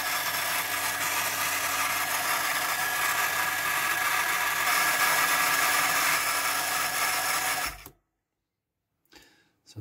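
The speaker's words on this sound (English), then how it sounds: "That noise is probably air in the system, but it's probably this one-way valve." Water pump on a rainwater harvesting pressure system running at about 4 bar, giving a steady loud whirring drone with air or a one-way valve noise, then cutting out abruptly to near silence with a faint knock afterward.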